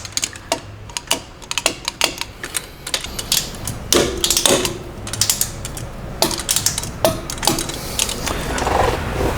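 Steering stabilizer bolts are torqued with a click-type torque wrench, lowers to 16 pounds and uppers to 44, giving a run of sharp, close ratcheting clicks and metallic ticks in irregular bursts, with no talking.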